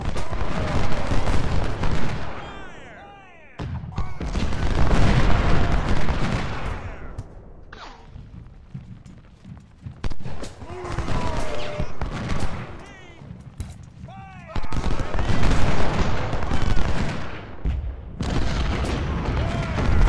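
Repeated heavy volleys of cannon and musket fire in the Civil War strategy game Ultimate General: Civil War, loud booming bursts separated by brief quieter gaps across the battlefield.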